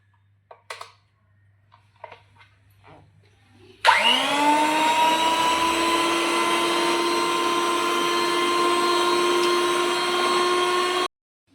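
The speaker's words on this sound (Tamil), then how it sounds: "இப்போ பாருங்கள், விப்பிங் க்ரீம் அடிச்சிருக்கோம்." An electric mixer whips cream for a black forest cake. After a few soft clicks and handling noises, it switches on with a rising whine and then runs as a loud, steady, high-pitched drone for about seven seconds before stopping.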